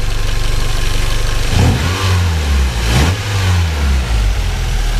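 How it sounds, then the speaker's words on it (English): A Nissan 240SX drift car engine runs loudly up close, its steady idle broken by a couple of quick revs that rise and settle back down. "So I got the motor in, all the fluids in, and the engine is running."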